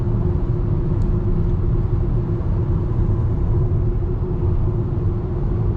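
Inside a 2020 Proton X50 with a three-cylinder engine accelerating hard, a loud steady low rumble of engine and road noise fills the cabin without letup, with no talking.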